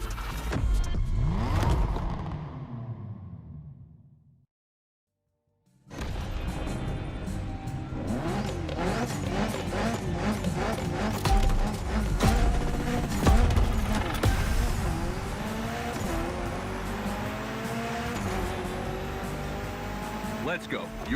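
Mitsubishi Evo 9 tearing through a gymkhana run in The Crew Motorfest, its engine revving hard with sweeping pitch changes and tire squeal, loud and close under a music bed, after a brief silent gap near the start.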